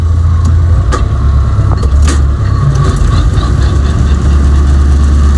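A tractor-driven mower engaging on a farm, deep engine and machinery rumble settling into a steady drone as it comes up to speed, with a few sharp clanks early on.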